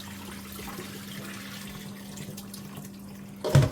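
Tap water runs steadily into a sink while saltfish is washed, a constant hiss that ends in a louder splash as the water is poured off.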